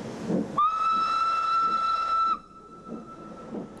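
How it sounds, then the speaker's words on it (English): Steam locomotive Loch sounds a long, loud steady whistle for nearly two seconds as it departs Lexey on the Manx Electric Railway with two 1904 Preston-built trailers, followed by lower chuffing and rail noise. "Loch departs Lexey with the MER's 2 Preston-built 1904 trailers."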